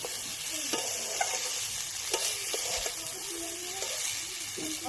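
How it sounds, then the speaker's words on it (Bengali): Vegetables and drumsticks stir-fry in a kadai, giving a steady close sizzle broken by repeated scraping and clattering stirs of the utensil against the pan. "আমরা কড়াইতে সবজিগুলো দিয়ে দিলাম।"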